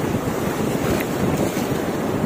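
Strong waves at sea heard from a fishing boat, a loud, continuous rushing wash mixed with heavy wind buffeting the microphone, steady throughout with no voices.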